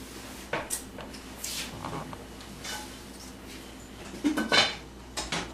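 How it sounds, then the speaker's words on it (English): Pasta for a Tuscan entrée scooped back into a metal pot and covered with a lid, with several scattered clinks and knocks of pot, utensil and lid, closing in a louder clatter near the end. "we're going to put that right back in that pot, and we are going to cover it"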